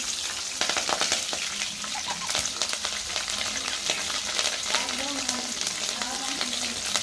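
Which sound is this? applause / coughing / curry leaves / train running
curry leaves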